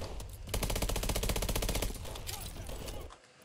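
Rapid bursts of automatic gunfire from a gun in Call of Duty Advanced Warfare, a dense rattling stream that runs loud for over a second, then trails into softer game noise and a faint voice.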